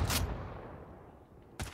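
Two gunshots from a first-person shooting animation in the ALSHE game, a sharp blast at the start with a decaying tail, then a second shot about a second and a half later, moderately loud and isolated.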